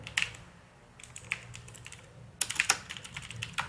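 Keys on a computer keyboard are tapped in short irregular bursts while a search query is typed during an MS Word beginner lesson, close and fairly soft with a quicker flurry near the end.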